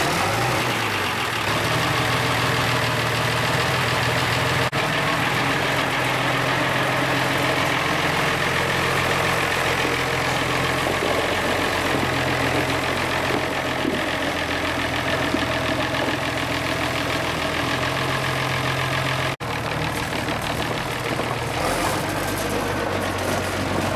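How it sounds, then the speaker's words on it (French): Turbocharged tractor of about 100 horsepower idling steadily, a continuous loud, even engine drone with a low rumble and a faint whine, heard alone and close for the whole stretch. "Et donc un tracteur, comme je disais, avec un turbo qui doit faire théoriquement maintenant dans les 100 chevaux"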